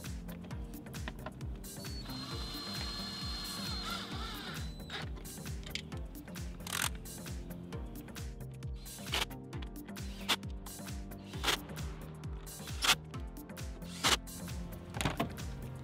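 A hand ratchet turning a T30 Torx bit to drive a screw on a BMW grille: steady rapid clicking of the pawl, close and fairly quiet, with occasional louder knocks and a brief whine near the start.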